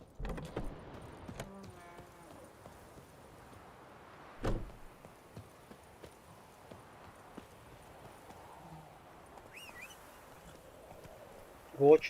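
A horse's hooves clip-clop in the video game Witcher 3, a few faint, spaced steps with sharper louder hits near the middle and at the end, amid quiet game ambience and brief talk.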